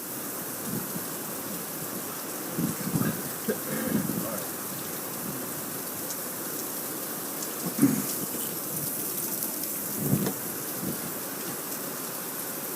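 Steady rain patters and splashes close by on a tablet on a front porch, with a few heavier drops and gusts standing out.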